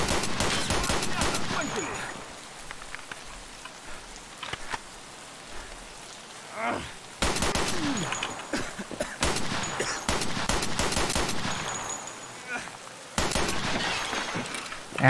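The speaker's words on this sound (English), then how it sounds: "Sound effects you don't want to hear! Gunfires and reloads." Escape from Tarkov gunfire comes in dense, loud bursts of rapid shots separated by quieter stretches of clicks and handling noise, with occasional voices in between.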